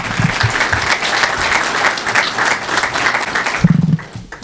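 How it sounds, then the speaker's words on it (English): Audience applause at a university athletics press conference introducing a new athletics director, steady dense clapping from a room of people that swells and then tapers off near the end. "A round of applause for them again."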